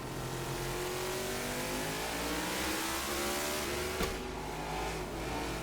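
Engine roar of NASCAR 21 Ignition video game race cars at Homestead revving steadily and continuously, with a brief sharp click near the end; no talking.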